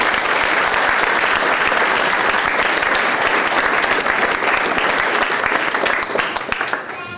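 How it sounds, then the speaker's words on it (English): Sustained, loud applause from the audience at an international football club press conference in Genoa, a thick continuous wash of clapping that thins slightly in the final second. "one last round of applause for everybody"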